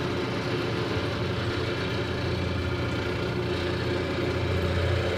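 A lathe spins mulberry wood while a carbide-tipped turning tool cuts it, giving a steady, dense machine drone with a low rumble that runs loud and unbroken throughout, with no pauses.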